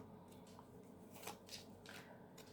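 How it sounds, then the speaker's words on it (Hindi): Soft papery rustles and light slides as tarot cards are drawn from a deck, three or four faint brushing sounds spread over a couple of seconds in a quiet room. "3 कार्ड हम ले लेते हैं यहाँ से."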